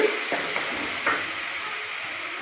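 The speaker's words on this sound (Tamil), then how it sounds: "இப்போ சிக்கனை போடுறேன் அது நல்லா வதங்கிடுச்சு பாருங்க" Village-style chicken sautéing in oil in a pan, giving a continuous close hiss and sizzle with faint stirring scrapes throughout.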